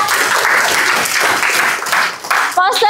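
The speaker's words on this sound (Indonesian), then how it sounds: "Tepuk tangan buat kelompok" A classroom group of teacher trainees bursts into brief, dense clapping for a presenting group, fairly close, with a voice breaking in near the end.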